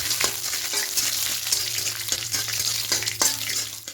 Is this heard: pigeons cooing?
no